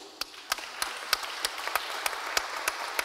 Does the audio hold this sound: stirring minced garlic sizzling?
no